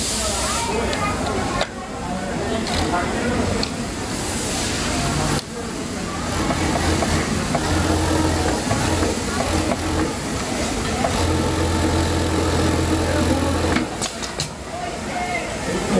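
A flatlock sewing machine runs steadily as it stitches fabric, with a continuous whirring, hissing mechanical rattle that briefly pauses and restarts a few times.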